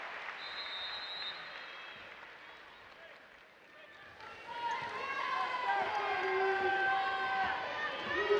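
Crowd at Gill Coliseum applauding during an Oregon State women's NCAA first-round basketball game as a player checks out; steady clapping and cheering swell louder partway through, mixed with arena noise and announcer talk.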